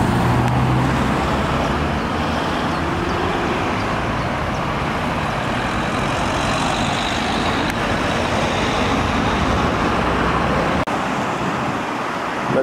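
A Porsche Cayenne Turbo passing on a busy road, its engine blending into a continuous loud roar of traffic that stays dense and steady throughout with no clear peak.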